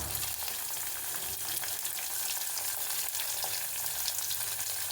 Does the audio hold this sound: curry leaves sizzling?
yes